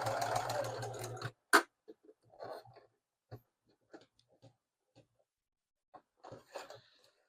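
A sewing machine stitches a Miata seat cover, opening with a loud, rapid burst of stitching for about a second. Scattered quiet clicks and thumps follow once the machine stops.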